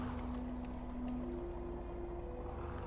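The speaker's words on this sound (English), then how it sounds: "we're going to move the car boat out of the way" A car boat from the LEGO Indiana Jones 2 video game cruises across water, giving a steady, even wash of engine and water noise that holds for the whole stretch without a break.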